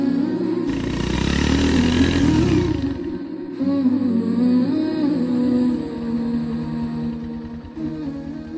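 A motorcycle arriving, its mid-pitched engine droning and revving nearby, swelling louder then easing and changing pitch, heard alone without speech.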